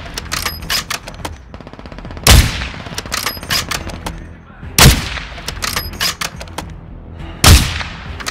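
Powerful .50 BMG rifle shots in the Modern Warfare II game on PS5, fired at long range with high-velocity rounds: three loud booming blasts spaced a few seconds apart, with dense rapid crackling gunfire filling the gaps.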